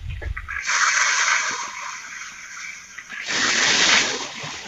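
Water poured into a pan of fried onion and tomato masala with green chilli and ginger-garlic paste, a loud broad hissing sizzle in two bursts separated by a brief quieter moment, close by with no talk.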